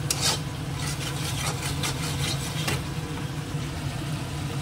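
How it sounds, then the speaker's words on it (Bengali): Spice paste sautés in ghee in a pan, a steady close sizzle with scraping and stirring strokes repeating rhythmically over a low background hum. "ঘিয়ে দিয়ে কষিয়ে নিচ্ছি।"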